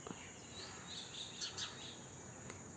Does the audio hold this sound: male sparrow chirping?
yes